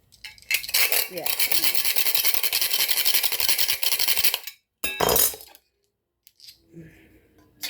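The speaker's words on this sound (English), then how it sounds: "let me sharpen my knives first." A kitchen knife is drawn repeatedly across a sharpener in a home kitchen, giving a dense run of close, scraping metallic strokes for about four seconds, then a short second burst and a few faint clinks.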